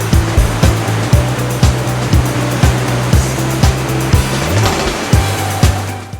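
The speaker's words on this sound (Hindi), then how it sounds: "ये है अंजनी केव और उसके ऊपर से गिरता हुआ अंजनी वाटरफॉल।" Anjani waterfall pouring over the mouth of Anjani cave in Ahwa, Dang, giving a loud, steady rushing roar of water with regular low thumps running through it.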